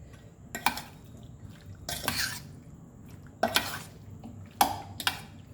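Chicken lollipop marinade being mixed by hand in a bowl, giving four separate bursts of wet scraping and clinking against the bowl with quiet pauses between them.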